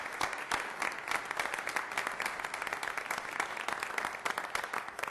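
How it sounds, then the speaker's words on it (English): An audience at a council meeting gives a sustained round of applause for a general contractor, a dense, even roar of many hands clapping at moderate distance from start to finish. "Let's have a round of applause for our general contractor"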